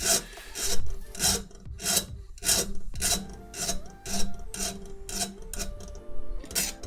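A hand file rasps burrs off a steel part for a RepRap 3D printer, with a dozen or so quick, rhythmic back-and-forth strokes close up and loud, and no talking.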